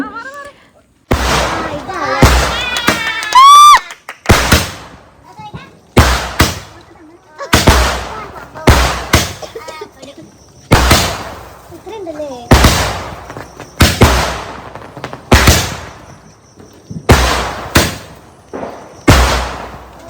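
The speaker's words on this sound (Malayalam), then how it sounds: "ഇവിടെ മാത്രമല്ല ഇവിടെയുള്ള എല്ലാ വീടുകളിലും ഇതുപോലെ പടക്കം പൊട്ടിക്കുന്നുണ്ട്" Firecrackers set off at home during a Vishu festival celebration in Kerala, with a dozen or so loud, sharp bangs going off at irregular intervals, some close together, with people talking between the blasts.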